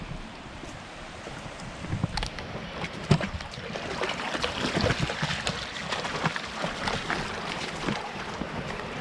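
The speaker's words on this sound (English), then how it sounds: "You love that rushing water, don't you?" Rushing water of a shallow stream being waded through on a gem-hunting outing in Indiana, a steady broadband wash with splashy footsteps and some wind buffeting the microphone, no talk.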